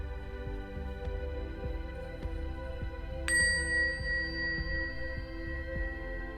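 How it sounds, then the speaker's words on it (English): A single bell is struck once and rings out with a clear, slowly fading tone over a soft, steady musical drone. No one speaks. "I'm going to ring a bell, and once that bell has stopped ringing"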